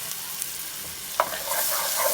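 Shrimp and tomatoes frying on a discada hiss with a bright, loud sizzle; one quick stirring scrape lifts the sound midway, and the frying grows fuller afterward.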